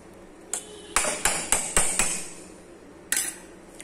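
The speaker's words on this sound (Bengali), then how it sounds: "তো এটা দিয়ে ভালো করে এখন ফেটিয়ে নেব।" Mixture beaten with a little turmeric powder in a bowl, producing a quick series of sharp clinks and taps, about seven hits in an uneven rhythm, close and clear with no talking.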